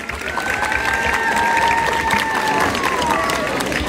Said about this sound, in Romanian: Vă rog foarte mult aplauze pentru profesorii Liceului Teoretic Ion Creangă din orașul Cahul.